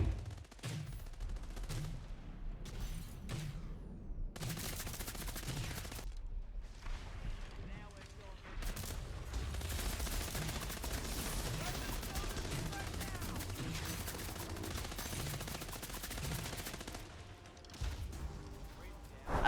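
Wildcard gun firing in the video game Scavengers, loud repeated shots and bursts with crashing impacts running nearly continuously, with a voice talking over parts of it.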